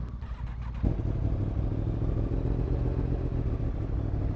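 A Yamaha MT-10 motorcycle fitted with a full Akrapovic exhaust system, heard close up. A quiet idle breaks into a sudden loud, deep, rumbling engine roar that holds steady for several seconds.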